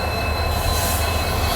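Tinsukia–Bangalore Express pulls into Ditokcherra railway station in the Barak Valley during the monsoon, with a loud, steady roar of rolling wheels and a high, sustained squeal that runs throughout.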